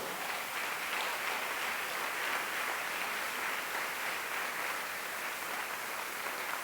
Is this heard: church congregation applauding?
yes